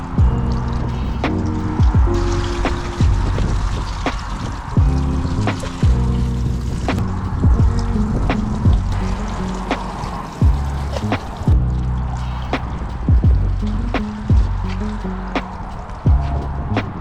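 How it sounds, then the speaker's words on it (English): Water from a watering can splashes and drips over a ceramic-coated Trek Madone road bike, a close, steady patter of pouring and dripping liquid with irregular splats throughout. "I've literally just chucked a watering can over it"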